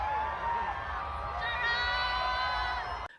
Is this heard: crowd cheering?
yes